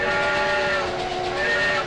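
Steady train running sound in the video game Railroad Tycoon II, a continuous loud rolling drone with sustained whistle-like tones layered through it, alone without talk.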